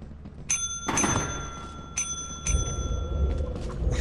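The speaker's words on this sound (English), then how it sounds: "I'm gonna ring the bell." A bright bell rings several times in quick separate dings, each with a short metallic ring, over some soft thumps and room noise.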